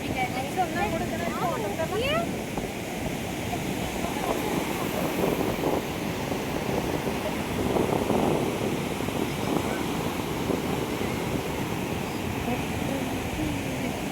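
Ocean waves rolling onto a beach make a steady wash of surf under wind noise on the microphone, with voices talking throughout.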